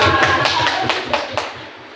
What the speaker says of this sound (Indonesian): Beri tepuk tangan Bapak Ibu untuk Bu Erma